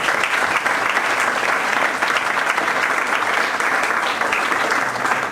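Audience applauding speaker Kevin Gillespie at an LA2M event, a sustained round of dense clapping from a sizable crowd, loud and continuous, tapering slightly at the end.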